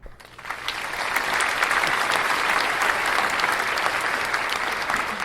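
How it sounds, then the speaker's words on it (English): Applause swells quickly from a quiet start into a loud, steady crowd clapping that carries on for about five seconds without easing. "Let's hear applause for the gang and the family one time."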